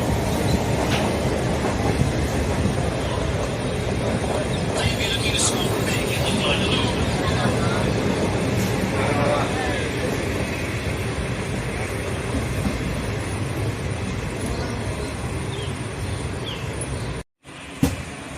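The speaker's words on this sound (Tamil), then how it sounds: "இந்த கும்பகோணம் ரயில் நிலையத்திலிருந்து நம்ம ட்ரெயின் கிளம்பிடுச்சு" Steady rumble and rattle of a train departing Kumbakonam railway station, continuous and fairly loud, with faint voices underneath; the noise cuts out briefly near the end.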